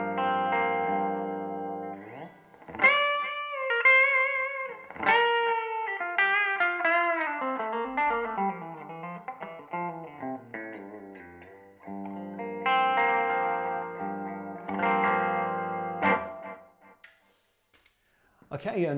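A Gibson Billy Gibbons Artist Proof electric guitar on its bridge pickup plays clean chords and descending lead runs, bright and close with a touch of effects, mostly alone with a pause near the end.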